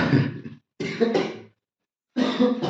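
Three harsh coughs from a man with a sore throat in quick succession, close and loud, separated by brief silences.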